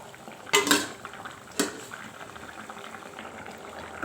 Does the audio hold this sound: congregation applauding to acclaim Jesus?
no